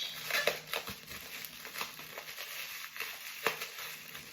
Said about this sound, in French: désolée pour le bruit du papier bulle